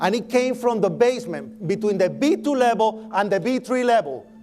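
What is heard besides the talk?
No distinct noise like a dog, phone or traffic.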